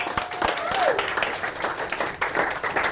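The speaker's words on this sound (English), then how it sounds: "a round of applause to them would be well deserved" Wedding guests applaud the bridesmaids during the speeches at The Lygon Arms, a dense run of clapping from a room of people that swells and stays busy, with some voices mixed in under it.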